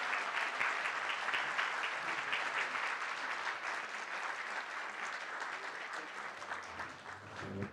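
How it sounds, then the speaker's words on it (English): An audience at a candidates' meeting gives a long round of applause, a thick wash of clapping that holds steady for several seconds before tapering slightly near the close. "This is your chance to give them a round of applause."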